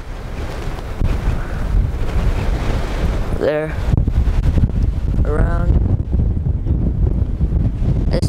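Strong wind buffets the microphone in a steady, loud roar on the Cerro San Luis hiking trail in San Luis Obispo, California, with brief voices speaking under it.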